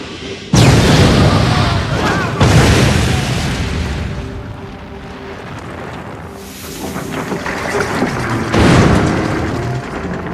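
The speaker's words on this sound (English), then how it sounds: "Hartvig has simultaneously fired 3 torpedoes at 3 different ships." Torpedoes strike ships at sea in a World War II Atlantic convoy battle. Several heavy booming explosions roll out one after another, loud and rumbling, with a continuous dense roar between them.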